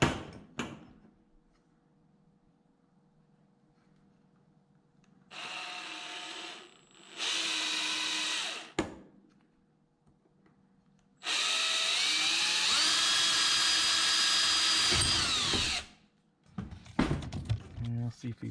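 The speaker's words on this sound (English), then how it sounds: "I'm having to drill out these holes here because this is the size I need" A power drill whirs in three bursts while drilling out mounting holes for an LED floodlight, two short and one long sustained run, with clicks and handling noises between, close by.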